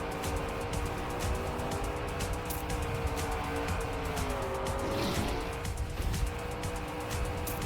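A racing car in the Trackmania game holds a loud, steady engine drone with pitch sweeps as it speeds and turns, tires squealing briefly near the middle, all close up and without talk.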